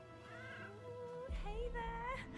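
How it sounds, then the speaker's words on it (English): Magical stray cats meowing in the video game Split Fiction, several drawn-out tonal mews close by over a game music bed, with a talking voice mixed in. "We are here to rescue magical stray cats."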